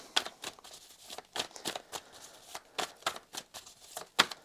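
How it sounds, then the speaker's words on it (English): Tarot cards are shuffled by hand up close in a series of irregular quick riffles and flicks, each a short crisp burst of papery rustle separated by brief pauses. "my shuffling is not getting any better"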